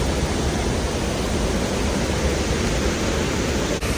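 The Rio Celeste waterfall roars in a constant, loud, dense rush of falling water heard up close, unbroken from start to finish with no voices.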